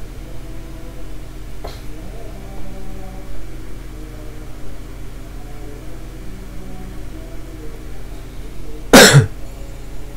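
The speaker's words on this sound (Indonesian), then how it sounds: "saya agak batuk karena tenggorokan lagi kurang enak." One person coughs once, a short sharp cough from a sore throat, over a quiet steady background hum of a computer room.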